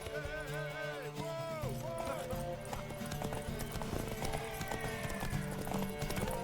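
Galloping hooves thud rhythmically beneath a swelling orchestral score, with a horse whinny and game sound effects layered in, from a horse race in The Witcher 3.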